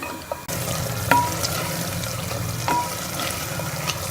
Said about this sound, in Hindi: डेढ़ चम्मच घी की डाल के हम इसको अच्छी तरह से भून लेंगे।